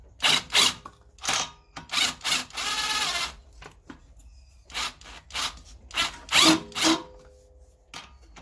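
A tool tightens a bolt on the rear top mount of a Ford Mondeo ST220 shock, making short loud bursts of ratcheting clicks and one longer continuous buzzing run, separated by brief pauses, heard close up.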